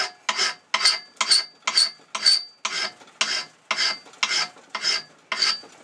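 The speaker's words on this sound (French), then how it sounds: "Une lime, voilà. Et j'aplatis bien comme il faut." A hand file rasps across a metal piece clamped in a vise, flattening it: about a dozen steady, evenly spaced strokes, close and clear, with no talking.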